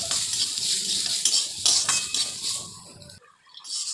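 Dal fries in a pan with stirring, a bright hiss mixed with metal spoon scrapes and clinks, close up, then briefly quieting before the sizzle resumes.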